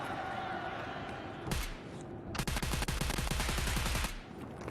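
Rapid automatic gunfire from an MDR rifle in a competitive video game match on the Equator map, one short burst followed by a longer sustained string of loud, evenly spaced shots.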